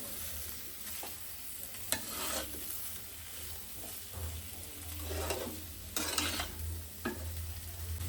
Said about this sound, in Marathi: बटाटा मस्त आपण तेलात आणि मिरचीत परतून घेतलाय आता थोडा असं अजून परतून घ्यायचं आहे